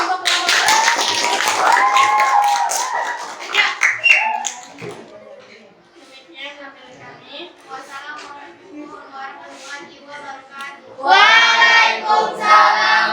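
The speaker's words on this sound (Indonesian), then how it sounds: "Kita beri aplaus dulu untuk kelompok" Applause for a student group in an Indonesian teacher-training classroom: a burst of clapping opens the clip, voices talk through the middle, then a loud round of hand clapping returns near the end.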